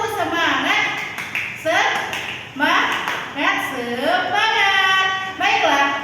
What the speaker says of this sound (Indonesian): Sebelum belajar supaya anak ibu semangat, kita tepuk semangat dulu ya. Tepuk semangat,